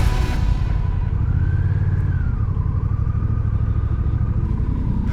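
Motorcycles at Deal's Gap, North Carolina, a steady loud engine drone with a rising and falling rev passing nearby, continuous throughout with no talking.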